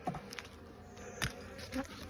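Honey bees buzz around an open hive during an inspection, with a soft, steady drone close by and a few brief, louder passes as single bees fly near.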